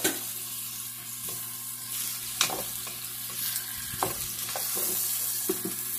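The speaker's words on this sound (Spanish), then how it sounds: "Vamos a ponerle el pollo que hemos frito." Fried chicken pieces tumble into a pan for a wheat and onion chicken dish, then a steady close sizzle runs under repeated scraping stirs, with sharp clacks of the utensil every second or so.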